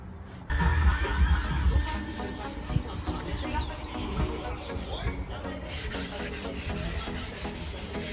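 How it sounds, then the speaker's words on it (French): A tool scrapes steadily along a sailboat hull being prepared for paint, a close, continuous rubbing and rasping outdoors with faint bird calls in the background. "pendant que mon chéri gratte"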